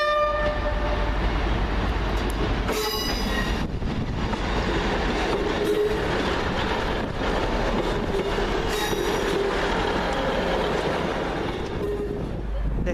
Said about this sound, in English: Next train in, the slightly delayed 1611, first Transpennine Express service from Manchester Airport to Edinburgh Waverley.